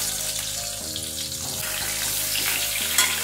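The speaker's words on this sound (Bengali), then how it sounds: "তেলটা গরম হয়ে গেছে, পটলগুলো আমি এর মধ্যে দিয়ে দিচ্ছি।" Salted pointed gourd pieces hit hot oil in a pan and fry with a loud, steady close sizzle and a few clicks, with no talking.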